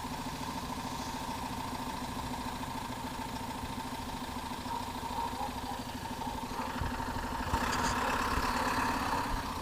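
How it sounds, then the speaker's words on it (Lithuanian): A tractor engine running at a steady idle, a low continuous droning rumble at moderate distance that grows slightly louder and rougher toward the end, with no talk. "tai kažką daro traktorius"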